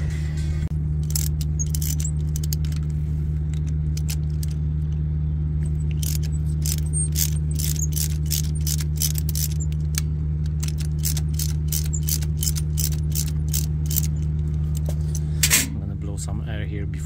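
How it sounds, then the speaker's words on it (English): Rapid metallic ratchet clicks from a deep socket with an extension come in quick runs while glow plugs are removed from a Perkins APU diesel engine, over a steady low mechanical hum, with a person talking nearby. "Deep socket with extension."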